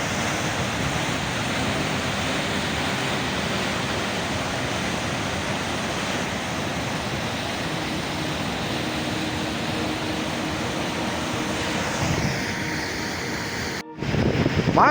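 A fast-flowing mountain river rushes through a valley in winter, a loud, continuous broadband roar with a brief dropout near the end.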